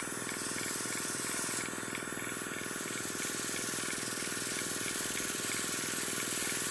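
A Dinair airbrush kit sprays foundation makeup in a steady, soft, continuous hiss held at gentle pressure, with a faint motor drone underneath and no talking.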